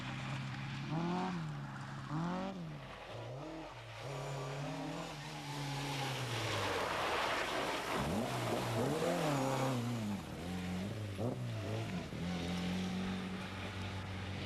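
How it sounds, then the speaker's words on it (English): Ford Escort rally car at the 1994 Townparks Rally powers along a stage on treacherous surfaces, its engine rising and falling through gear changes, loud and close throughout with brief tire noise. "Andy McGee, with Michael Johnson in the notes, is having a fabulous run, leading much more modern machinery as he tails the Escort over the treacherous surfaces"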